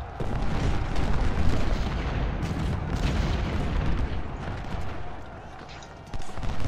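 Artillery fire in the Civil War strategy game Ultimate General, a dense rumbling barrage of booms and gunfire rolling on continuously, loud and low, easing slightly near the end.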